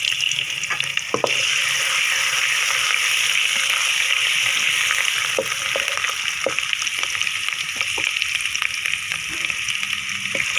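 Cumin seeds and ginger paste sizzle and fry in hot oil for a spicy mashed turnip dish, a loud, constant hiss with scattered pops and the scrape of stirring.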